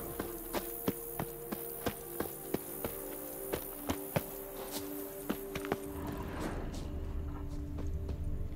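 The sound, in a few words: horse hooves in The Witcher 3 video game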